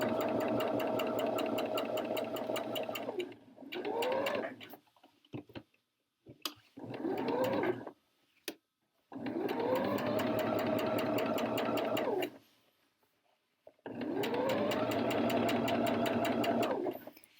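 A sewing machine stitches a jacket in four bursts of rapid, even mechanical whirring, each running a couple of seconds or more, broken by short pauses and a few faint clicks and handling noises between runs.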